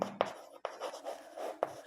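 Chalk or marker writing math on a board in a Class 5 lesson, a few short taps and scratchy strokes over under two seconds, near and fairly quiet.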